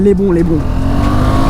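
KTM RC sport motorcycle engine droning loudly on a winding uphill mountain road, a steady close roar with rising pitch under a rider talking.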